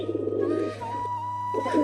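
Pigeons cooing nearby, low soft throaty calls rolling on steadily over a faint constant hum.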